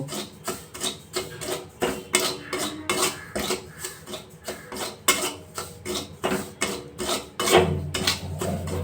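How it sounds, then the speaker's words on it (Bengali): Semolina being stirred and roasted in a pan over a low flame, giving a steady run of scraping and rubbing strokes in a regular rhythm, close and fairly quiet, with no voices. "সুজিটা এক মিনিট এইভাবে নাড়াচাড়া করে ভেজে নেব"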